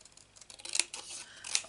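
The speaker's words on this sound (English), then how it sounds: "Now, take this and we'll cut it out." Scissors cut out a paper shape during a card-making project. Two crisp, quiet snips come close together with a soft rustle of paper between them.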